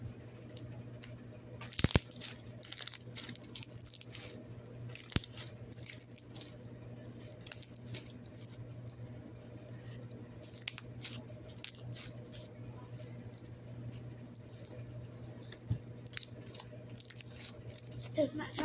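Golden slime stretched and squished by hand, giving soft wet squelches and small crackly pops under a steady background hum, with one sharp louder snap near the start.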